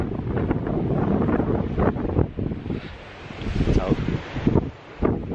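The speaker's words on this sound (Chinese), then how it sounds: "好大风" Strong wind in Iceland roars and buffets the microphone in heavy, uneven gusts, loud and close throughout, with brief lulls between blasts and a voice briefly heard.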